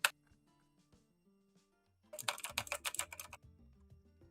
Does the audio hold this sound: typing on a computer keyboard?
yes